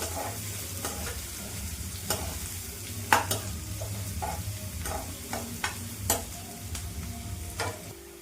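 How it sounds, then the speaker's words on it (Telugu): Two medium onions frying in a pan for a spicy Telangana-style boti fry, a constant close sizzle broken by repeated sharp scrapes and clicks of a spoon stirring, no voices. "ఇది లైట్ గోల్డెన్ బ్రౌన్ వచ్చే వరకు వేయించుకుందాము"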